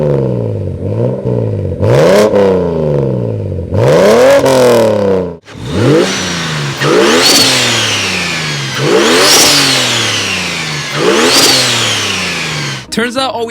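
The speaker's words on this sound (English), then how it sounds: "At least let's rev it a little bit." Loud, close revs from a single-turbo BMW engine, repeated sweeping rises and falls of pitch in quick succession, with a rough, roaring note.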